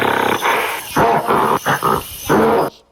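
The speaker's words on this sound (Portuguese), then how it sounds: "Isso era um macaco!" A monkey gives a loud call in several rough, choppy bursts separated by short pauses, close and fairly harsh.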